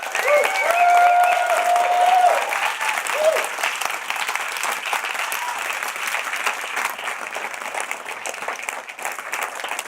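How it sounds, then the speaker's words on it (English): A seminar audience in Boise breaks into loud, dense applause that runs steadily for the full ten seconds, with a brief whistle near the start and scattered voices mixed into the clapping. "give these guys a round of applause."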